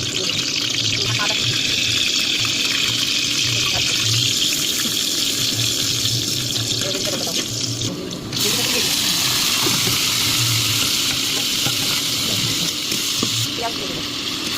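Oil heats and sizzles in a wok while chicken and vegetables are being cooked, a steady loud hiss that dips for a moment partway through, with a voice speaking over it.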